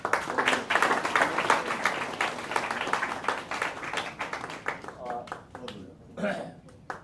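An audience at a staged play claps in a fast, loud burst that thins out and fades, after which a voice is briefly heard.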